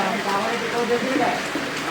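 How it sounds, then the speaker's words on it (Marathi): Heavy rain in Khed falls in a dense, steady patter on surfaces, an even wash of noise close by that continues unbroken. "पाऊस खूप आहे"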